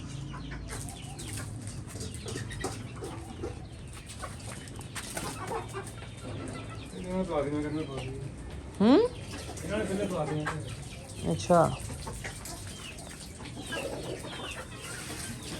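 Chickens cluck near food, with short bird calls and fowl chatter over a noisy background while people talk nearby.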